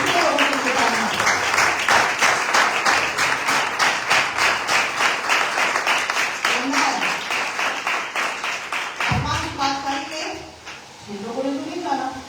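A church congregation claps in a steady, rapid rhythm, the sharp beats loud and close and continuing throughout, with singing or speaking voices over the clapping.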